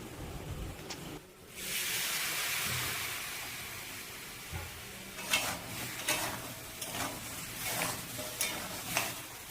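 Snails in a pan with turmeric and chili powder, stirred as they fry for a Bengali curry: a steady low sizzle with scraping stirring strokes that grow more frequent toward the end, fairly quiet and with no talk.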